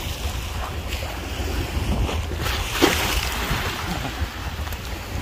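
Waves washing onto a pebbly beach at Phu Quoc, Vietnam, a continuous rushing surf mixed with heavy wind buffeting the microphone, one surge swelling louder near the middle, with no talking.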